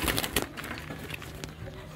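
Pigeons, red-legged and white-legged birds, are caught and handled, with wing flaps and scuffling bursts at the start, then soft cooing, some close rustling and faint talk.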